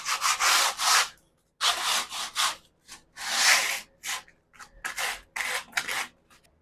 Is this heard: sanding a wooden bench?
yes